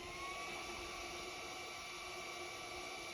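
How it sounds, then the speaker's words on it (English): A Bolt Buster induction heater runs with a steady, high-pitched electronic whine over a broadband hiss, constant and loud throughout, with no voices. "I'm going to start the machine"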